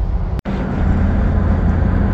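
A Toyota Land Cruiser 80 series cruises along swooping roads, a steady loud cabin drone of engine and road noise with one brief dropout near the start, no talking.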